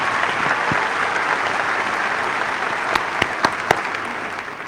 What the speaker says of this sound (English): Please join me in giving our Area Commission a round of applause.